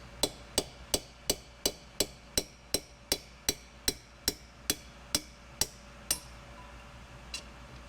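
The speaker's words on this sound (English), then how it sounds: "drive against the remaining shell from the opposite direction to finish removing the guides from the head" A driver is struck with a hammer, knocking old valve guides out of a Ford tractor 172ci gasoline cylinder head with a steady series of about sixteen sharp, ringing metallic blows, close and evenly spaced, with a final lighter tap.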